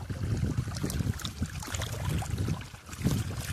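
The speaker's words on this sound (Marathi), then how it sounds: "कसं रानात पाणी चालू आहे की नाही बघा" Irrigation water runs through a wheat field on farmland, with sorghum planted beside the crop, a steady outdoor wash of flowing water and wind rumble across the whole stretch, loud and close without any speech.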